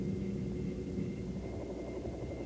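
A Bell AH-1 Cobra attack helicopter gives off a steady, heavy engine and rotor rumble, constant and fairly loud throughout with no voices.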